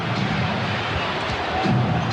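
Arena crowd at Game 6 of the 1996 NBA Finals, Bulls against Sonics, a dense, steady roar of many voices close by with a slight swell toward the end.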